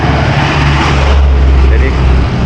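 Busy street traffic of many motorbikes and cars in Indonesia, a loud, continuous close roar of engines with a low rumbling drone throughout and no clear gaps.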